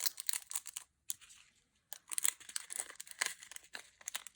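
Plastic bead packet being folded up during a snowman card craft, producing bursts of crisp crinkling and rustling close by, with brief pauses between handlings.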